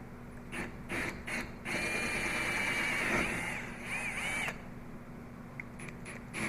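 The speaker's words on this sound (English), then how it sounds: "I just wanted to drill the 2 and seal it." A power drill bores holes through thick fiberglass while fitting a propane bottle mount on a 2018 Jeep JKU, with a sustained whirring whine broken by short starts and stops, loud and close.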